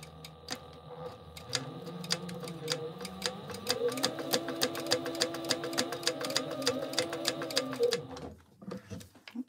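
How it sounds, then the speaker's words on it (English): A sewing machine runs a line of topstitching in a rapid, steady mechanical rattle that speeds up midway, then stops near the end, leaving a few quieter handling sounds. The needle tension is off after earlier sewing of TPU. "All right, let's top stitch this."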